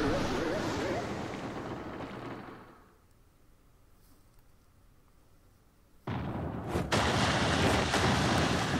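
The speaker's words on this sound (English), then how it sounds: "You fire cannons here" Loud booming blasts of ship cannon fire in the video game Paper Mario: The Thousand-Year Door, in bursts, a roaring barrage that drops to a quiet lull, then erupts again with heavy repeated booms.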